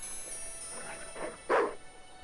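A dog in Broken Sword 2 gives a few soft barks and yips at the docks of Marseille, faint and slightly distant, the last one louder.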